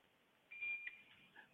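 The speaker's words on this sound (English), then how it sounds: "If it beeps, it's what? It's good." A multimeter's continuity beeper sounds while testing a fuse, giving a short electronic tone of under half a second followed by a softer blip, fairly close in a quiet room with no talk.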